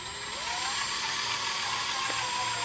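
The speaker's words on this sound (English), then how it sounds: "We're gonna start by drilling the hole, drill and tapping the hole." Steady whining drill grinds into the housing of a BMW E46 transmission for a clutch delay valve install, a continuous close high-pitched buzz without pauses.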